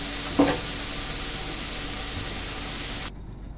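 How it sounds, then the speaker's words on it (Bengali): Fish fries in oil, a steady, close sizzle with a brief pop near the start, and it cuts off abruptly near the end. "সুন্দর করে একটু ভাজা করে নেবো আমি মাছটাকে।"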